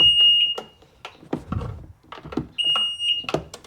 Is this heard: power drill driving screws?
no